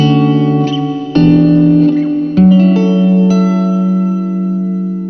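Electric guitar through a plate reverb effect on a Zoom MS-50G multi-stomp pedal: three struck chords, each ringing with a long shimmering metallic tail that slowly decays, loud and alone without talk.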